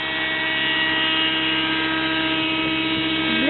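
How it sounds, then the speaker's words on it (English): A Raptor 30 model helicopter hovers close by, its engine and rotor giving a steady, loud, sustained whine and buzz with a slight pitch wobble near the end. "helicopter."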